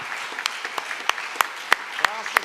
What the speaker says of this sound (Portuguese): vamos aplaudir ao Senhor, porque o Senhor é bom